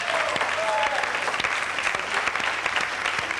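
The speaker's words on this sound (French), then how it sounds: "la foule en délire de vous applaudir pour ce superbe mot qui est kilt" A television game show studio audience applauds, a dense sustained clapping at fairly close range.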